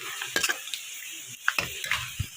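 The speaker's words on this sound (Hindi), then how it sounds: "और ये डाल दिया तड़का है ना, तड़का डाल दिया" Hot oil sizzles and crackles as a spice tempering is tipped into a pan of cooked greens, with a few sharp clinks of a metal spoon against the vessel.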